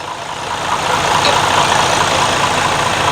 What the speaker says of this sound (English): So here's the engine.